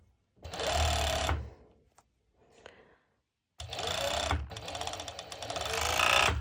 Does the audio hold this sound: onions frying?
no